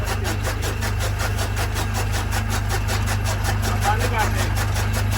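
A fodder-cutting machine runs on a Pakistani village farm, its engine humming steadily and close throughout, with voices talking over the drone.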